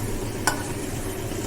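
Vegetable chops frying in hot oil, a soft continuous sizzle with one short sharp tap or stir partway through, close and fairly quiet over a brief stretch without speech.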